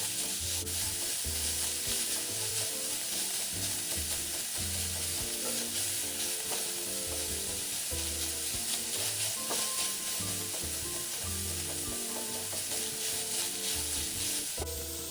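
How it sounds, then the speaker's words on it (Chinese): Minced pork stir-fries in a wok, a constant loud sizzle with repeated scraping strokes of a spatula against the metal, running without pause and with no voices. "接着再加入300克肉末，将肉末炒散，炒至肉末颜色转白。"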